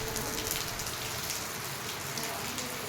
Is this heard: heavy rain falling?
yes